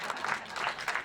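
Audience clapping at a Saturday rally, a fairly quiet, dense patter of many hands heard from a distance for about a second.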